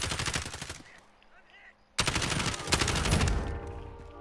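Automatic rifle fire from the player's own weapon in Warzone, fired in two loud, rapid bursts split by a brief quiet gap, with faint talk in the background.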